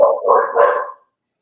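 A dog barks in a few quick, close, loud bursts that run together for about a second, then silence.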